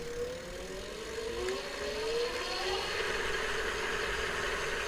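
Paslic X PC100 ebike hub motor spinning on throttle with the rear wheel lifted off the floor, a steady whine that rises in pitch as it speeds up, alone and fairly close.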